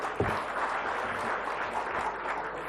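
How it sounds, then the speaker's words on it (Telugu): An audience at a speech event claps together, a dense crackling wash of applause that holds steady at moderate loudness for a few seconds. "come on give a big claps"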